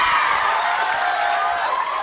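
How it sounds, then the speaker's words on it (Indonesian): A TV studio audience on a comedy show applauds steadily, with a dense wash of clapping and light cheering that holds even throughout. "Kita kasih tepuk tangan untuk grup"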